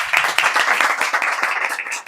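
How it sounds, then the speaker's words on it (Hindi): A church congregation claps loudly together, a dense, sustained round of hand claps close by that carries on throughout without talk. "यीशु के जलाल के लिए जोरदार ताली बजाएं"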